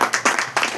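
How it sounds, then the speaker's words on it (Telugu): Church audience clapping hard together in a short loud burst of a few dense, uneven claps, with no talk over it. "గట్టిగా చప్పట్లు కొట్టండి ఒకసారి"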